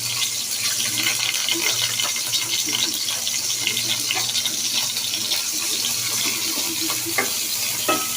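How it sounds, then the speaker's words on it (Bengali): Dried loitta fish fries in hot mustard oil in a pan, a steady close sizzle with scraping stirs and light clinks running throughout. "এগুলো আমি ভেজে নিচ্ছি আর সাথে কিছু রসুন দিয়ে দিচ্ছি।"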